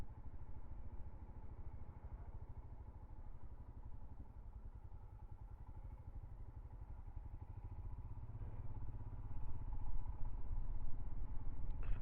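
Royal Enfield Himalayan 411 motorcycle pulling in second gear on a ride to work, a steady low engine drone with rumbling exhaust that swells slightly toward the end, close and continuous with no talk.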